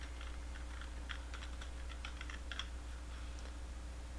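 Soft keystrokes on a computer keyboard come in a short, quiet burst of irregular taps, with no voices.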